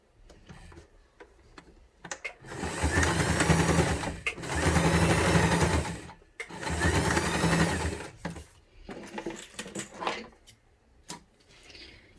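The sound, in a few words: sewing machine stitching a finishing seam on fabric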